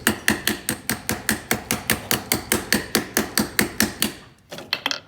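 Wrench tightening a battery terminal on a 1976 Porsche 924, a rapid, even run of about twenty close, sharp metallic clicks, then a short pause and a few more.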